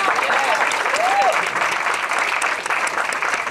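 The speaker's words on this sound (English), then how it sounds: "I want you all to give a big round of applause to the United States of America" Audience applause at a Haitian-American luncheon, a dense, steady roar of many hands clapping that fills the room, with a voice briefly rising above it early on.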